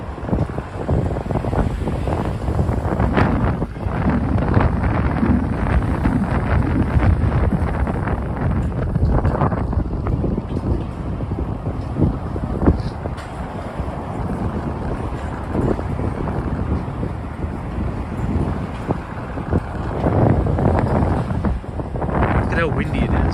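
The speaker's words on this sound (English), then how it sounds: "How windy it is." Steady gusting wind buffets the microphone on Fifth Avenue in Midtown Manhattan at night, a continuous roaring rush with a voice speaking underneath at times.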